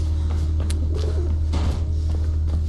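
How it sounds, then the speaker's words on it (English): Pigeons in the video game Mirror's Edge give a few short coos over a steady low electronic hum, moderately loud and close. "Pigeons!"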